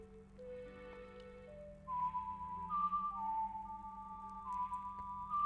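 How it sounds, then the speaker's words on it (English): A short melody from Ocarina of Time whistled through cupped hands, with sustained pure tones stepping between pitches, fairly clear over a steady low background hum. "To my weird hand whistling."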